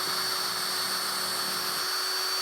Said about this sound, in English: and again we'll drill through this one